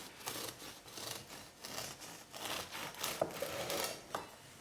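A knife saws a slice from a loaf of pumpkin brioche bread, making faint, rhythmic rasping strokes repeated steadily for several seconds.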